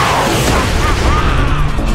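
Rocket launcher explosion in the Tales from the Borderlands video game, a loud, continuous booming blast with heavy low-end rumble and crackling debris filling the whole moment, no speech over it.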